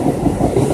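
A train sound effect plays as a loud, steady rumble with a quick clickety-clack rhythm of wheels on rails, brief and alone.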